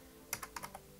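Quiet typing on a computer keyboard, about five quick distinct key clicks in a short irregular burst against a faint background hum.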